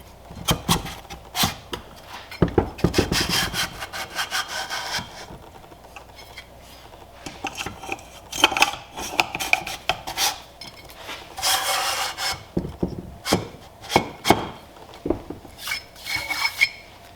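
A cylinder being set onto the compressed pistons of a Sea-Doo 787 two-stroke engine, with a series of sharp metallic scrapes, rubs and clinks in bursts, close and fairly loud, with no talking.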